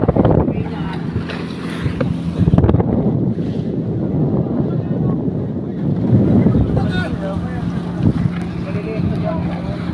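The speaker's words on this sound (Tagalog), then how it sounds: "malakas ang agos" A strong river current rushes and churns steadily with heavy wind buffeting the microphone and a faint low hum underneath, while a voice speaks over it.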